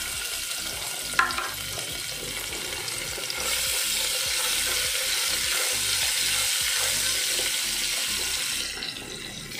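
Ginger garlic paste sizzles and crackles loudly in a hot pan for a black chana and potato gravy, a steady hiss swelling midway with a sharp clatter near the start, fading toward the end.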